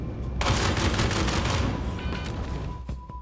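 Pulverizer LMG in Star Citizen fires a long rapid sustained burst, loud dense automatic gunfire that stops abruptly, followed by a few scattered sharp impacts.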